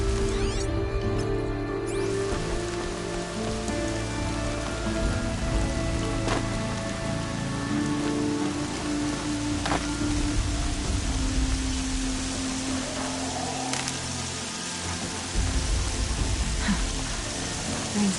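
Steady rainfall in the Horizon Zero Dawn video game, a dense patter of drops on surfaces with occasional brighter splashes, continuous and moderately loud with faint game tones beneath.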